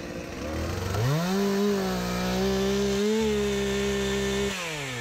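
A chainsaw runs steadily under load while cutting wood during pig pen building, its engine note rising and holding near and loud for several seconds before easing off at the end.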